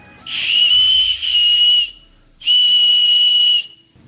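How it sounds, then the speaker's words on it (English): A shrill, piercing plastic survival whistle from a paracord bracelet sounds in two long steady blasts, the first with a brief wavering break, followed by a pause and silence. "then you've got a whistle, I believe. Let's blow that."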